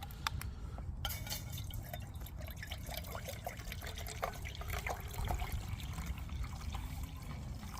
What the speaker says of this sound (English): Let's add some water and we'll make a drink.